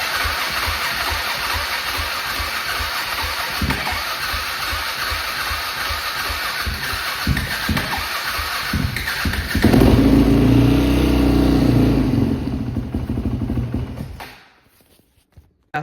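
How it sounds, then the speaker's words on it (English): A 2006 Yamaha WR450F dirt bike engine idles close by with a steady, loud running note that briefly swells and deepens near the end before cutting off abruptly into silence. "let's idle it for about 3 minutes and then we'll check the oil level"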